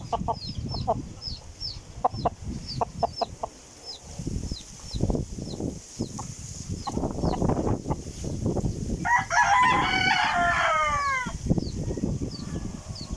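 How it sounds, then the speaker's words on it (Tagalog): Backyard chickens and roosters in a breeding coop, rapid clucking and cackling close by with a rooster's crow ringing out in the middle, steady farmyard noise throughout. "Dito ako sa manukan ko mga kalodi."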